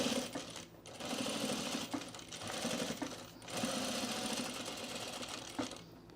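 A sewing machine stitches men's cargo shorts in steady, loud runs, broken by a few short pauses before stopping near the end.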